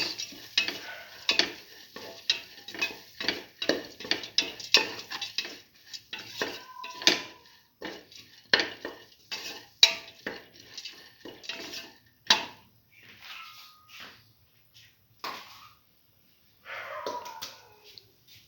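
A spice mixture for black lentil stew being sautéed and stirred in a pan, a busy run of close metal spoon scrapes and clinks against the pan over a faint sizzle, tapering into sparser knocks near the end.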